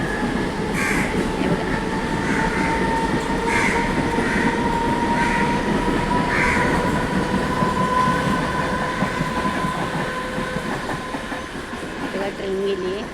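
Rail cars rumble steadily over a bridge spanning a creek, continuous and fairly loud throughout, with a few crow calls and faint voices in the background as the train fades slightly near the end.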